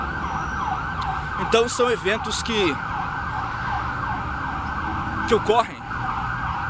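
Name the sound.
emergency vehicle siren in city of Sorocaba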